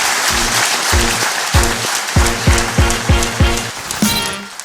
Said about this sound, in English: I would like a great applause for my